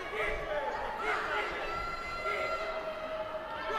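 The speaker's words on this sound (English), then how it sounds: "A lot of support in the crowd." Arena crowd at a women's world championship boxing bout, a steady roar of cheering and chatter with a commentator's voice running through it.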